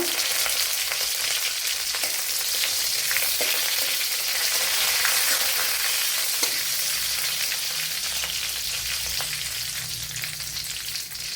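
Dried red chilies fry in hot oil in a pan, a dense, steady sizzle with crackling pops running throughout at close range, no voices.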